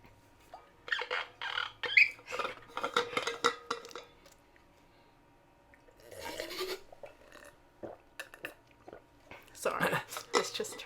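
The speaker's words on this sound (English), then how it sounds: "I'm gonna take a sip of water." Someone sips and drinks water in quick, quiet mouth sounds and soft swallows, faint and close, mixed with low murmured voices in a calm indoor room.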